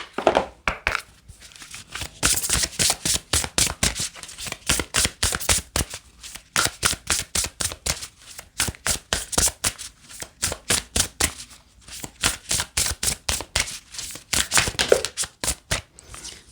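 Deck of fairy tale oracle cards being shuffled, close and crisp, in a long steady series of rapid riffling bursts with brief pauses between them, without speech.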